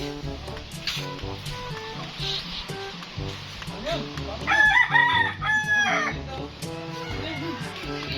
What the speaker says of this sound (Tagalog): Ah, nahuli ang manok.